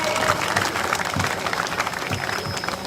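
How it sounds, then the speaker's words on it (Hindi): A crowd at an award ceremony honouring Olympic wrestling medalist Deepak Punia breaks into steady, energetic applause, dense clapping with a few sharper nearby claps. "जोरदार तालियां दीपक जी"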